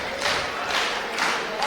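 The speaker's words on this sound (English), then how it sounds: "Getting this crowd behind him." A wrestling crowd cheers and claps rhythmically behind a competitor, a loud, dense roar swelling in regular pulses.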